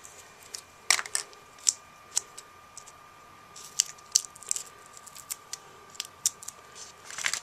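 Large foam pop-up dots are cut in half with a run of crisp, close snipping clicks, a dozen or so irregular cuts against a quiet background.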